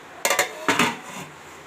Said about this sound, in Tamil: மூடி வைக்கலாம்.